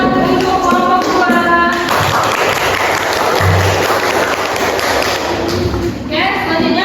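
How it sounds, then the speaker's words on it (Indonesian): A classroom full of students applauds for group two, a dense, steady wash of clapping lasting several seconds, with voices heard before and after it. "Beri tepuk tangan untuk kelompok dua"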